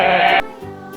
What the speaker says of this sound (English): Goat. The sound of a goat.